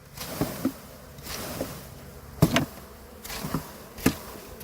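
A honey bee swarm buzzes inside a hive after being shaken in, a low hum punctuated by several sharp knocks and thumps from the shaking and hive handling.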